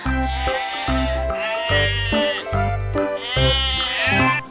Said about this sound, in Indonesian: Wow, ada domba juga di sini teman-teman.